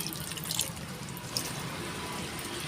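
Half a litre of curd is added to a pot of mutton biryani, giving a brief soft wet plop and a faint liquid splatter. It is close and short, with a low steady background hum.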